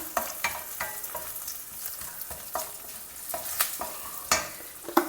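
Lentils (dals) dry-roasting in a pan for homemade idli podi, a soft steady crackle with repeated sharp spoon scrapes and taps against the pan, close and without speech.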